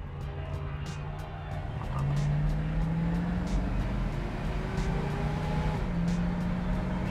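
A 1968 Ford Mustang driving and turning, its engine a steady low drone from inside the cabin that rises in pitch partway through as it pulls away, with a continuous road rumble.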